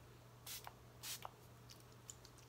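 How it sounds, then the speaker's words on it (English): Two short, breathy hissing bursts of MAC Prep and Prime setting spray, a few spritzes apart, fairly close and moderately loud over a faint steady hum. "my MAC Prep and Prime setting spray."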